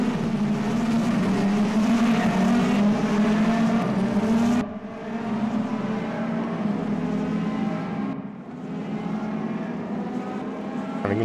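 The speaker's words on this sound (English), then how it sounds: "Watch this queue of cars streaming out of the pit lane here." Racing cars stream out of the pit lane in a Mercedes-AMG eRacing video game at the Nürburgring, a continuous droning engine whine with a shift to a lower, slightly quieter roar midway.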